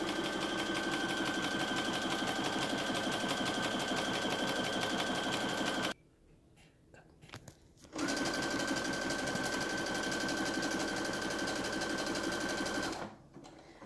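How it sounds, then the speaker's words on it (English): A sewing machine stitches elastic onto a fabric mask, a close, loud steady motor whir with rapid needle chatter, stopping for about two seconds of quiet handling before running again, then cutting off near the end. "I finished sewing around, cutting my thread."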